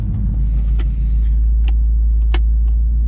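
A Pontiac Trans Am V8 with a line-lock holds a steady loud, close rumbling idle-to-rev drone during a burnout, with a few brief sharp clicks over the constant low engine roar.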